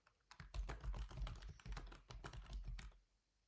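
Email addresses being typed on a computer keyboard: a quick, continuous patter of close, soft key clicks in short bursts, quiet and alone, fading out at the end.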